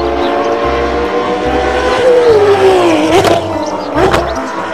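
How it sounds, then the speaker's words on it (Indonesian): A yellow toy race car gives off a loud, continuous electronic engine tone whose pitch glides down and back up, with brief sharp clicks and rattles cutting through near the end. "kalau ini mobil balap warna kuning teman-teman"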